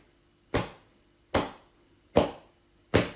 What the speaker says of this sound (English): this is the sound of the beating cloth